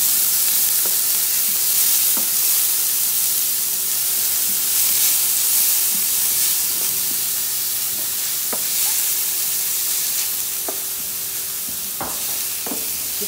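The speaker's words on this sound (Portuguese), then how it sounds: "uma cebola roxa picadinha, vou mexendo. Vou regar com um pouco mais de azeite." Chopped red onion frying in olive oil in a hot pan, a steady close sizzle and hiss broken by occasional light clicks and scrapes of stirring, with no talk.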